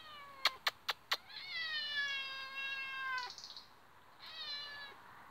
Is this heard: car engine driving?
no